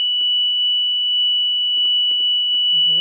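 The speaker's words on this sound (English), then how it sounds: "And this is loud. It's a solid piezo." A Chubb On Guard Pro burglar alarm's solid piezo siren holds one loud, piercing, steady tone throughout, nearby and continuous, with faint clicks and a brief low hum near the end.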